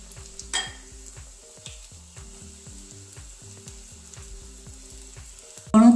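Cauliflower pakoras fry in hot oil on a gas stove, giving a soft steady sizzle with small repeated crackles and clicks, faint and close, with a louder clatter at the end.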